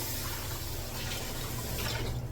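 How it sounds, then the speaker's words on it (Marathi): Hot water is poured from a tambya pot into a cooking pan for kheer, a continuous close splashing and filling sound, steady throughout with no talk. "हे गरम पाणी जे आहे ते मी गरम पाणी बघा तांब्याने टाकते"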